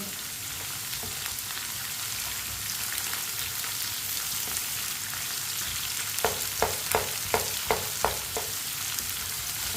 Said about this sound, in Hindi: प्याज को भी 2 मिनट के लिए पका लेंगे